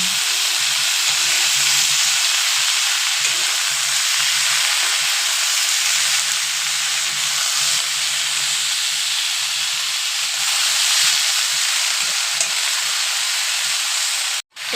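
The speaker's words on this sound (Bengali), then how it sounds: "দিয়ে দিলাম শাক, দিয়ে দিলাম চেরা কাঁচা লঙ্কা," Pumpkin leaves and slit green chilies fry in a pan with a loud, dense, continuous sizzle and hiss close by, holding steady throughout before cutting off abruptly at the end.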